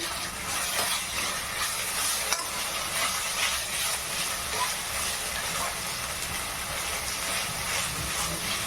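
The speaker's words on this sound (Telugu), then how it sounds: "సో అల్లం వెల్లుల్లి పేస్ట్ వేసిన తర్వాత కొంచెం కలపండి." Ginger garlic paste stirred in a pan for paneer butter masala, giving a steady, close hiss and sizzle with faint scraping, continuous and even throughout with no talking.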